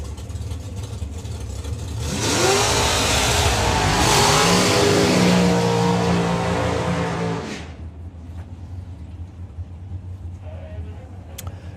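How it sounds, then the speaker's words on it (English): Two suspended monotail dragsters at Santa Pod Raceway race down the drag strip, a loud sustained engine roar building quickly, holding for several seconds with rising pitch, then fading sharply as they pass into a quieter background. "So, both suspended monotail dragsters."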